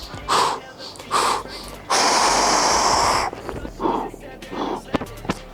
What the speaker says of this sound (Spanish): Estoy respirando normal